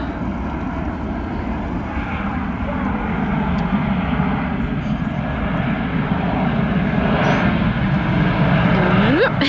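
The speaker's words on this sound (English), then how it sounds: "There's a ginormous aeroplane." A very large aeroplane passes overhead near the Knap and Porthkerry country park in Barry, its deep, loud engine roar swelling gradually and staying continuous, with wind noise around it outdoors.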